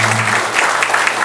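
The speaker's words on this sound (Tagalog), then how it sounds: "Bigyan naman natin ng palakpak lahat yung" Applause from an audience at an evening special-awards gathering held in a retreat house, a steady dense wash of clapping filling the whole moment with no voices over it.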